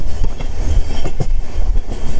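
Vistadome tourist special train on a Dooars route, loud close rumble of wheels with rhythmic clunks of rail joints every half second or so, steady throughout, no talking.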